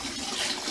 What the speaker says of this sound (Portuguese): Tô aqui enchendo aqui esse balde e o tanquinho que eu vou lavar umas roupinhas.